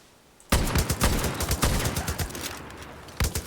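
Rapid bursts of gunfire in Far Cry: New Dawn, with loud clustered shots cracking in quick succession and a final short burst after a brief pause.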